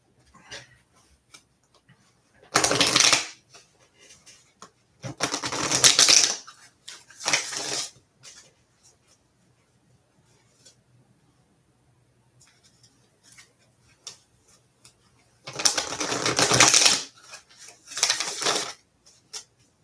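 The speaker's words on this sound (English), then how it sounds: "going to start shuffling this deck" A deck of tarot cards is shuffled by hand in several short, crisp riffling bursts separated by quiet pauses, close and fairly loud.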